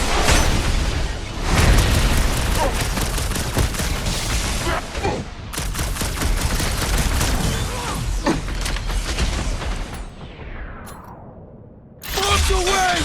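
Explosions and rapid blasts in a chaotic combat scene of the Guardians of the Galaxy video game on PlayStation 5, loud and continuous, with repeated booms and gunfire-like bursts, a brief lull near the end, then more blasts.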